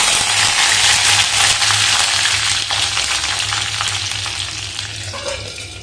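Mustard seeds, two dried red chillies and curry leaves sizzling loudly in hot oil for a South Indian rasam tempering, a dense close crackle that slowly eases.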